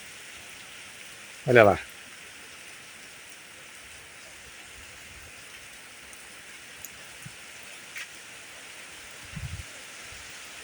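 Heavy afternoon rain falling on a farm in the Brazilian sertão, a steady even wash of noise, with a brief spoken remark near the start and a few faint knocks later.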